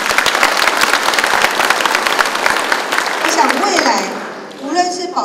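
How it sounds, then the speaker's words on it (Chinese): Gathered volunteer patrol members at a training event give a loud, dense round of applause lasting about four seconds before it dies away into a voice and faint crowd sounds. "我们是不是给自己掌声啊"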